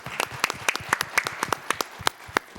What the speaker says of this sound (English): if everybody give him a round of applause